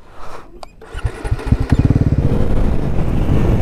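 A Bajaj Pulsar motorcycle engine cranks and starts with a few uneven bursts, then settles into a loud, steady idle rumble close by.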